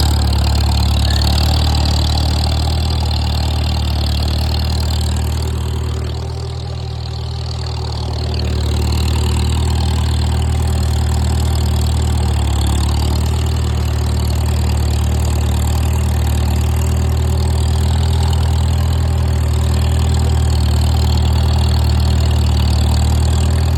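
An IH Farmall M tractor engine runs steadily as it crosses a planted field, a loud, constant low drone with a slight dip in the middle and no talk.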